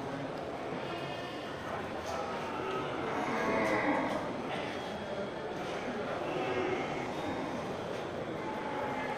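A female Aceh water buffalo at a buffalo market lows in a long, deep moo amid a busy, noisy crowd, with people talking throughout.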